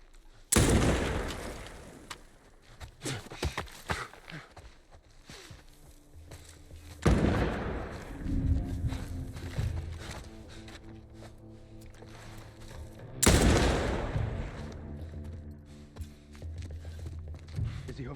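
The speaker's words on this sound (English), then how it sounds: "Who's shooting me?" Gunfire in The Last of Us Part I, three loud sharp shots spaced several seconds apart, each followed by a rumbling echoing tail, with game ambience between them.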